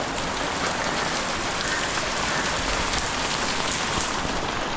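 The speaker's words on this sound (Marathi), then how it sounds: "एवढा पाऊस पडतो तरी छत्री कोण चालला" Heavy rain pours down in the Kharghar hills, a dense, unbroken hiss of drops striking surfaces, close and loud throughout.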